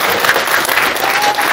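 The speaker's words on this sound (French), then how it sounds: "J'aimerais qu'on s'applaudisse encore très fort." Wedding guests at a civil and religious ceremony in Grand Lahou break into loud, sustained applause, a dense crowd of hands clapping steadily throughout.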